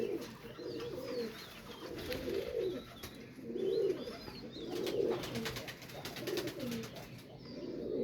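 High-flyer pigeons coo repeatedly in rhythmic, throaty bursts, fairly close and steady, with faint chirps from other birds in the background.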